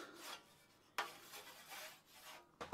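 Paraffin candle wax is rubbed onto a hand saw blade at a woodworking bench, giving short raspy strokes back and forth, faint and close, with a sharper scrape near the start and end.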